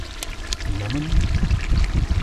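Lemon juice is poured into mutton karahi being cooked outdoors, a brief liquid splash and trickle over a short stretch of nearby voice.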